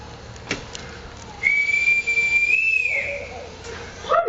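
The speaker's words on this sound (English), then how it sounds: "Oh, I forgot to return this whistle, Captain." A single sustained whistle blast rings out loud and close for about a second and a half, with a slight rise in pitch near its end, in an otherwise quiet room.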